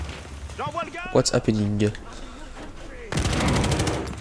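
Battlefield Hardline multiplayer combat: a sharp broadband burst of grenade explosion and gunfire erupts loud in the last second, after a stretch of someone talking over quieter game ambience.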